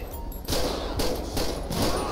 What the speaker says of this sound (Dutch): Schot los.